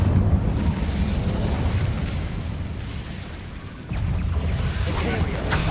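A fiery Incendio spell blast in Hogwarts Legacy, a loud roaring whoosh of flame that swells, dips briefly, then bursts again with crackling energy, with a voice faintly mixed in.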